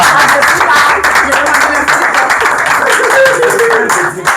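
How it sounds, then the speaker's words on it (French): A crowd at a one-year wedding anniversary ceremony claps loudly and steadily for a mother, with dense continuous applause and some voices mixed in. "Est-ce qu'on peut acclamer très fort pour notre maman?"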